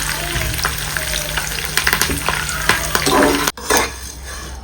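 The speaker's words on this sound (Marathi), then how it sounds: "लाल मिरचं पण चांगल्या तेलामध्ये तळलं जातील" Red chillies frying in oil with coriander and cumin seeds for a dry fenugreek chutney, a loud close sizzle with spatula scraping and pan clinks, briefly interrupted near the end.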